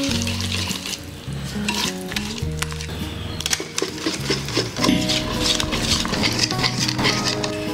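Pinoy-style pancake batter cooking in a pan, with a soft sizzle under clattering utensils and pan knocks, close and busy, with faint low background tones throughout.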